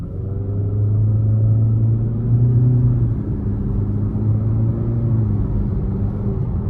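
A 2023 Nissan Altima SR VC-Turbo accelerating from a stop, with a loud, close engine rumble and a rising tonal drone that climbs steadily, recorded from inside the car without any talking.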